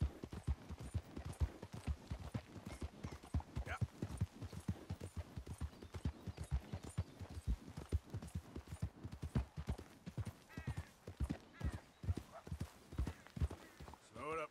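Steady rhythmic hoofbeats of a horse clip-clopping along in the video game Red Dead Redemption 2, continuous and fairly quiet, with talking over parts of it.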